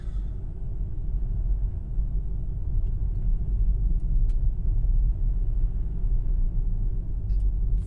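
Ford Mustang Mach-E Select AWD electric SUV rolling over slushy snow and sand on a treated road, a steady low tire and road rumble heard from inside the cabin with no talking.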